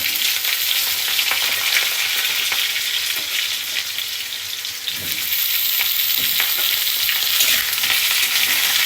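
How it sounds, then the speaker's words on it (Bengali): Potatoes fry with cumin seeds in a pan, giving a steady, loud, close sizzle with brief bursts of crackle and a few stirring scrapes throughout. "এবার আমি আলুগুলো ছেড়ে দিলাম"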